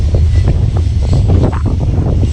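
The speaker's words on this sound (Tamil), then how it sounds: "அந்த காற்றடிக்கும் போது அப்படியே அந்த தூசி இங்கே பறக்குது." Strong wind blows dust beside a moving iron ore train in Mauritania, making loud, rumbling buffeting on the microphone that gusts unevenly throughout.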